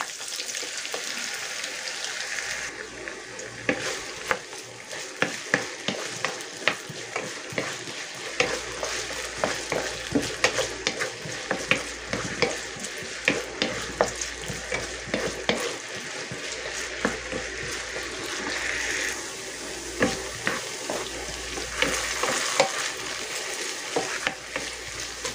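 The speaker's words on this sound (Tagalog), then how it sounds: "Magpainit tayo ng mantika sa kawali. Lagay natin yung carrots at patatas." Carrots and potatoes fry in hot oil in a pan, a steady dense sizzle with crackles and spatters running the whole time, plus occasional stirring scrapes, close and fairly loud, with no talking.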